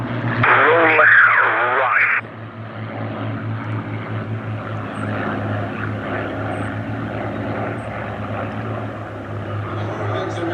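A Hawker Hurricane fighter in early-war green and brown livery flies at the Sywell airshow, its piston engine giving a steady, moderately distant drone, with a brief radio voice transmission at the start.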